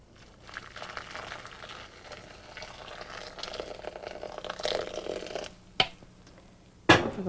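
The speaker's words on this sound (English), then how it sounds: "Cover with boiling water." Boiling water is poured over a handful of dried chamomile flowers in a bowl, giving a soft, low, steadily rising pour with two sharp clinks near the end.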